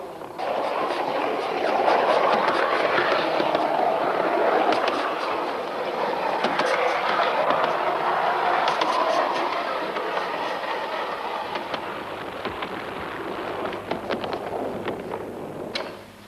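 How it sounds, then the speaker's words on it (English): A model British double-decker tram rumbles along its track in a continuous, close, rolling rattle with faint clicking wheel noises, steady throughout and fading slightly at the end, no talk. "let's go back to the good old British double-decker rumbling along and give it another whirl"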